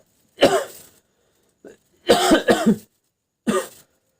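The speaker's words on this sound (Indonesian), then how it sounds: "Batuk lagi." A few deliberate, forced coughs close up, in short bursts separated by pauses, with a faint throat sound between them.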